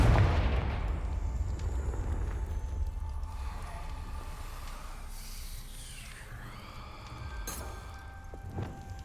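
Confringo fire spell cast in Hogwarts Legacy: an initial blast followed by a rushing, roaring burst of fiery noise that fades over several seconds, with whooshing and crackling magical tones, no talking.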